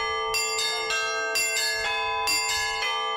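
Church bells ring in overlapping, rhythmic peals with bright sustained tones at a bell-ringing festival in a church belfry, loud and close with no talk.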